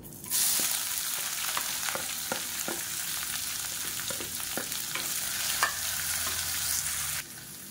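A handful of long-sliced onion and two green chilies fry in hot oil with a steady close sizzle, punctuated by regular scraping stirs of a spoon against the pan.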